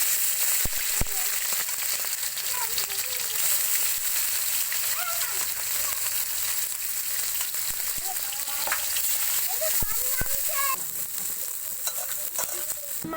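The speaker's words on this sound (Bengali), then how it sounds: "মাছগুলোকে হালকা করে ভেজে নেওয়া হবে" Small desi puti fish frying in hot oil in a kadai, a steady loud sizzle and crackle running throughout with scattered spatters and a few utensil clinks, a voice speaking faintly over the frying.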